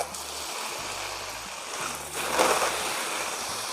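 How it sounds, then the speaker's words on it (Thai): A household tap fed by a water pump runs strongly, making a steady rushing splash that surges briefly louder midway, close and moderately loud, over a faint intermittent low hum, with no talking. "อันนี้คือน้ำไหลปกตินะครับ ไหลแรงนะ"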